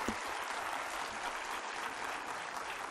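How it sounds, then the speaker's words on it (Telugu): An audience at a Dr. B.R. Ambedkar state conclave claps steadily in a dense, sustained round of applause, filling the space with no voice on top. "చప్పట్లు కొట్టాలండి, గట్టిగా కొట్టాలి"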